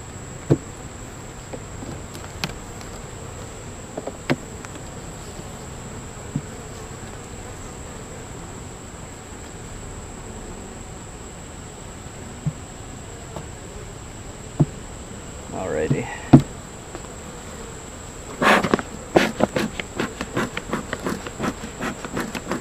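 Honeybees hum steadily in an open backyard hive during an inspection, a constant close buzz with a few individual bees flying past the microphone, plus scattered clicks and knocks from handling hive frames near the end, no speech.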